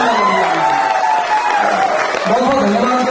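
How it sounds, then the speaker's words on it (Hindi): An audience applauds and cheers at a motivational gathering, a steady loud wash of clapping and crowd noise lasting throughout. "एक बार शानदार तालियां होना चाहिए हमारे ग्रेट गुरु मिस्टर जयदेव"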